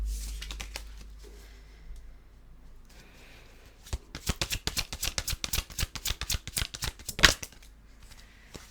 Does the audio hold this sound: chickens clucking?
no